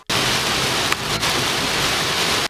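Driving rain lashes down in West Palm Beach, Florida, as Hurricane Matthew approaches, a dense, loud, unbroken roar of rain with no voices, lasting a couple of seconds.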